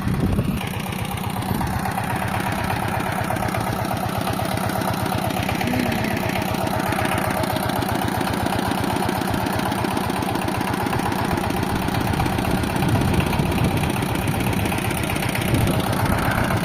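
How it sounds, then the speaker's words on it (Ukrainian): A tractor digs potatoes in a field, its engine running steadily and fairly loud for the whole stretch with a constant mid-low drone and rhythmic knocking; no speech. "копає чоловік трактором"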